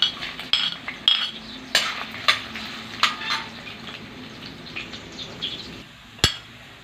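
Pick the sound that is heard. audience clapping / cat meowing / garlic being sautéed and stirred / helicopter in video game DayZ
garlic being sautéed and stirred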